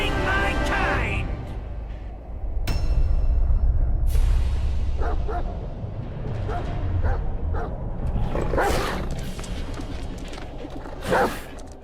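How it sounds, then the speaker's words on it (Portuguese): Xiao Tianquan, the loyal hound of Erlang Shen in the video game Black Myth: Wukong, gives deep barks and growls amid game music and effects, with a voice speaking over parts of it. "Esse cão aí é o Xiao Tianquan, que é o fiel cão do Erlan Shen"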